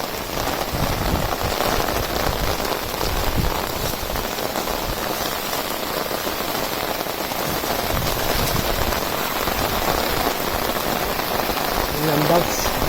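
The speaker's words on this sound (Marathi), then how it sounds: "जोरदार पाऊस पडतोय." Heavy monsoon rain pours down in a village in Shirur taluka, hammering surfaces in a dense, steady roar for the full thirteen seconds, close and unbroken.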